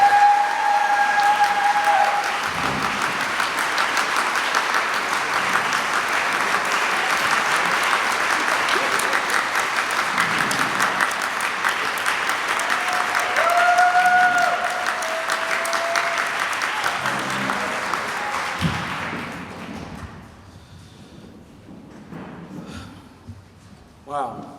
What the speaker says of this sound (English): Please give me a hand in welcoming Jordi Zapata.